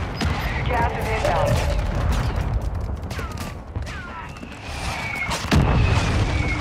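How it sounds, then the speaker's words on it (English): Mortar strike explosions and gunfire rumble close by in a battle royale video game match, with repeated booming blasts and scattered shots layered over dense low rumble, including a heavy burst near the end, while voices occasionally talk underneath. "Mortar strike right on us."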